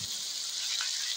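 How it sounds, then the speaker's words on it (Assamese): Pieces of black goat's head meat fry in hot oil, giving a dense, steady, close sizzle that continues evenly throughout with no talking. "ভাজি আছো"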